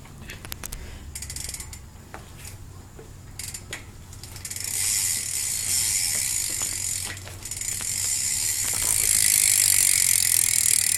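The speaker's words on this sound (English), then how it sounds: "I'll let you hear what the hub sounds like." Rear hub of a bicycle freewheeling, giving a rapid ratchet-pawl clicking that starts sparse and faint, then swells into a steady buzzing whir that grows louder toward the end, with no talking.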